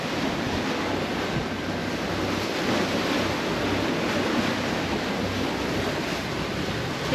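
Strong wind and surging waves roar steadily around a sailboat off Martinique, near and loud, with constant buffeting microphone noise and no talk.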